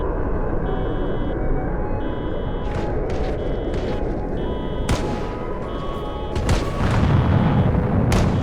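Sporadic gunshots from the Project Zomboid video game, set in Raven Creek with the Day One mod, crack out as several sharp, separate reports over a steady droning background, with a louder burst near the end.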